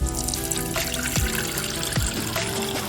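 Cow's milk pours into a pot on top of a little water, a close, steady liquid stream with trickling and splashing, interrupted by a few louder glugs, heard without talk.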